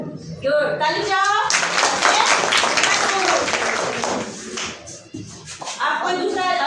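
A group of children clap their hands together during a school competition, a dense flurry of claps for several seconds framed by adult speech at the start and end.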